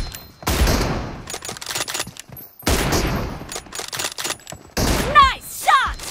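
Gunfire in the PUBG Mobile video game, including M24 sniper shots, comes as loud bursts and cracks spread through the clip, with game voice announcements in between.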